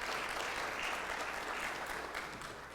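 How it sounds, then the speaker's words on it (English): A church congregation gives a round of applause, steady clapping from a crowd that fades slightly toward the end. "So everybody give Sam a round of applause."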